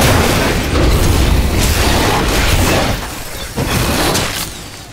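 A bomb goes off in the action game Werewolf The Apocalypse Earthblood: a loud, close, sustained roar of debris and rumble that briefly dips, then swells again with a second crack, without speech.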